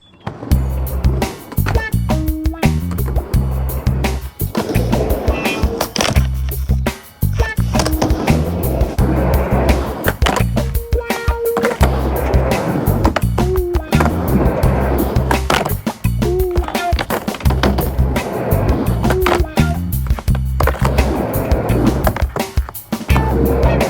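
A skateboard on a mini ramp, with wheels rolling and sharp repeated clacks and bangs as the board hits the coping and deck. It is loud and close throughout, with brief drops where the rider pauses.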